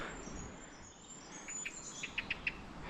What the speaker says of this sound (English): There's a blackie bird up there.